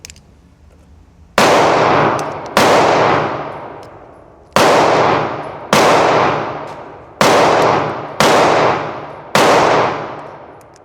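Seven loud, close 10mm pistol shots ring out one by one at irregular intervals of about a second, each with a sharp crack and a long ringing decay, with no talking.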